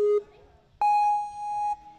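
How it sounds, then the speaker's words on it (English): Electronic start tones from a Ninja Work timing system at a ninja athletics course: a short steady beep, a pause, then a longer higher beep, both clear and close, over a faint background murmur. "So you will hear the following tones when it is time for you to start."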